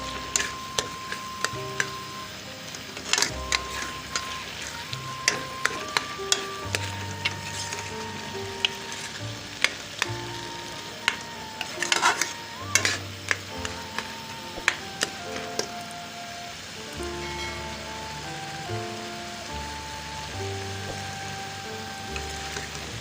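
Pumpkin halwa being stirred and fried in a pan, with steady sizzling under repeated scraping and clinking of a spoon against the pan throughout.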